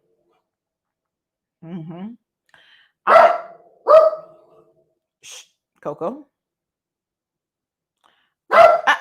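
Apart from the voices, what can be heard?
dog barking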